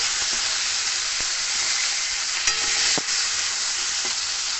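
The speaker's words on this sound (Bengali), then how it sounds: "টমেটোকে ভালো করে নাড়াচাড়া করে অল্প নরম করার পরে" Chopped tomato stirred in hot oil in a pan gives a continuous close sizzle, broken by a few sharp spatula knocks and scrapes, with no talking.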